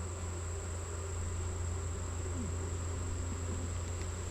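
Honeybees fanning inside a hive during an August hive inspection make a steady, low droning hum that continues evenly and quietly throughout, with no pauses.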